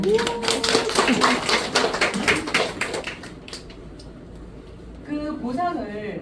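A seminar audience at a business meeting claps briskly for about three seconds, the claps mixed with a speaking voice, which carries on alone afterward.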